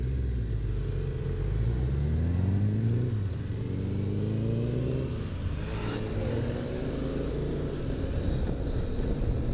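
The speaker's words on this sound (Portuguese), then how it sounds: "Vocês conseguem ouvir o escape aqui da moto do lado?" Deep motorcycle exhaust rumbles nearby, the engine note rising and falling as it revs over a steady low drone.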